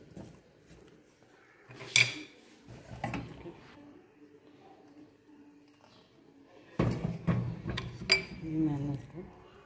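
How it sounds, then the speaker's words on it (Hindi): Cumin okra being dished out of a pan, with a few sharp metallic clinks and scrapes of utensils against cookware, separated by quieter stretches, while someone talks. "अब मैं इसका चूल्हा बंद कर दूँगी और इसको डिश आउट करूँगी"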